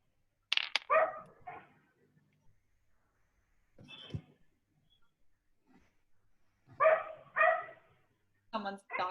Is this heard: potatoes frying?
no